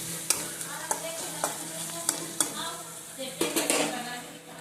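A spoon stirs egg curry in a pan while curry leaves are mixed in. Steady sizzling runs underneath a series of sharp scraping clicks against the pan, spaced irregularly and growing busier toward the end.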